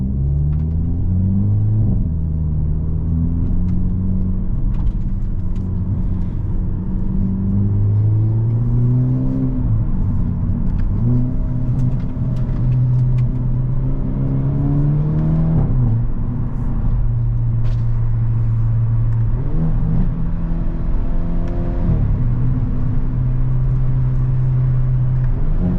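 A 2023 Hyundai Elantra N exhaust accelerating through gears, a loud close rumbling drone that climbs in pitch, drops at each shift and climbs again several times, with no talking.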